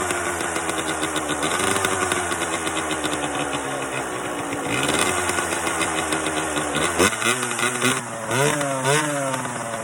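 Kawasaki KX 125 two-stroke dirt bike running up close after an exhaust repair, with loud idling and repeated revs rising and falling, no talking.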